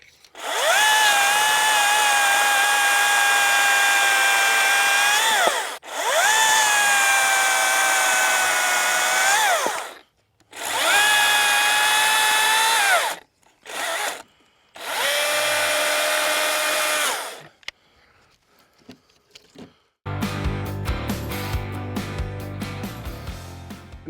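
Milwaukee M18 FUEL battery-powered top handle chainsaw cutting tree branches, its high whine revving in several loud bursts with short pauses, then fading to quiet before a rough clattering noise at the end.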